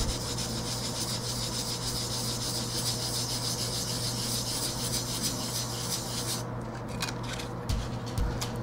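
Fine-grit sandpaper rubs over a handmade bookmark in a continuous, close, even scraping, broken into a few separate strokes near the end.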